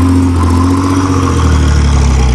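A Pontiac Fiero V6 engine runs loud and close, with a steady and strong engine roar. Its pitch holds high and sustained throughout, and no talk is heard.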